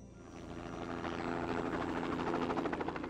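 Helicopter flying over New Zealand forest while spreading 1080 poison bait, a steady rotor and engine drone that swells slightly louder across the short stretch, continuous with no talk.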